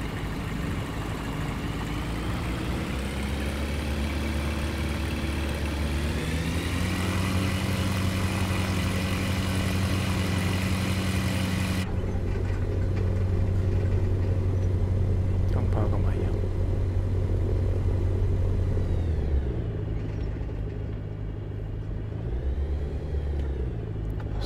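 A P92 light aircraft engine idling in Microsoft Flight Simulator, a steady droning rumble with a low hum that holds throughout and then winds down near the end, under someone speaking.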